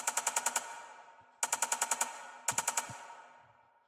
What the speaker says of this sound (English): Added this perk, almost like I like to call it gunshot.